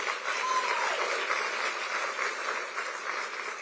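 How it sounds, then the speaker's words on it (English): An audience at the G20 talks on Africa's clean energy future gives a steady round of applause, an even, continuous wash of clapping with no speech over it. "So let us give them too a round of applause."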